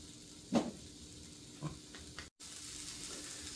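Eggs frying in a pan give a faint, steady sizzle, broken by a couple of soft clanks and scrapes; quiet and without talk.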